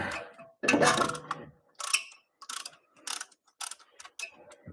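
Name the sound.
ratchet wrench ratcheting in reverse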